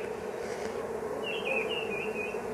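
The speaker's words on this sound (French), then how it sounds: "on a des abeilles qui commencent à sortir ici" Honeybees from a hived swarm buzz steadily around their hive as they begin to come out, a dense, even drone with a few higher whines drifting over it.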